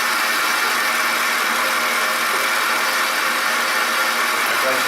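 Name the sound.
car engine running, heard at the AC compressor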